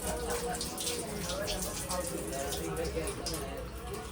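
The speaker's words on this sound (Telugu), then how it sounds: "మనకు వాటర్ అయితే వస్తుంది, మనకు వాటర్ అయితే వస్తుంది. ఎక్కువ ఫోర్స్గా వచ్చేస్తాం వాటర్ అయితే" Water gushes forcefully from a tap in a train bathroom aboard a Duronto Express, a steady loud rush blended with the constant rumble of the moving train.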